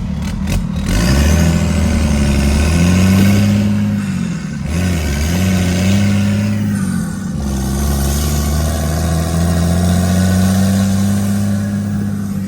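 A 2nd Gen Cummins diesel truck with its hood stack removed and the exhaust moved out the back drives in the rain, engine rumbling loud and close and revving up and down steadily throughout, with no talk.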